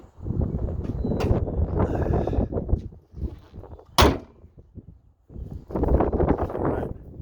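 A 2004 Honda Odyssey hood dropped shut onto its latch gives one sharp, loud slam in the middle, set between stretches of rustling handling and wind noise.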